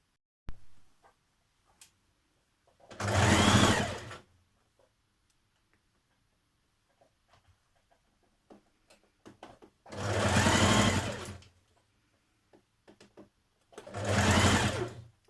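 A sewing machine stitching a dress seam with a 1.5 centimetre allowance runs in three short, loud whirring bursts of a second or two each, separated by quiet pauses with faint handling clicks.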